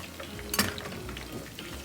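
Vegan egg foo yung frying in a pan gives a steady low sizzle, with one brief louder crackle or stir near the start and no talking.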